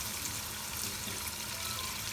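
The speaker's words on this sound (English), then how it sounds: "now I'm going to add my water." Water poured into a pot of rice, two cups of rice with three cups of water for a quinoa and Sona Masoori pilaf, a steady close wash of pouring and splashing with no talk.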